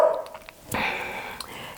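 A dog gives a couple of short, sharp barks in a quiet room, close to the microphone, with brief pauses between them.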